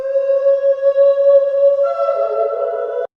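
An ambient voice sample playing inside music production software: a sustained, airy tone held steady with layered harmonics, shifting slightly near the end before cutting off cleanly, heard alone and up close.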